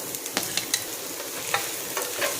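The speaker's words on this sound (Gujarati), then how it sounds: "લસણ મરચાં સરસ સતળાઈ ગયા છે તો હવે આપણે એમાં ડુંગળી નાખીશું" Gentle sizzling and stirring of garlic and green chillies frying in a pan for Gujarati-style masala pasta, with scattered soft scrapes over a steady low crackle, close and quiet.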